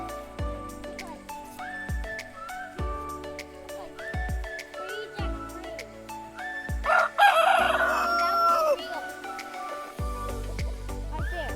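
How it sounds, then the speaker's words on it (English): A rooster crows on a small Illinois farm, giving several loud, drawn-out calls in close succession with some clucking from nearby fowl against a busy outdoor background. "That's Grayson's chicken, Jackaroo"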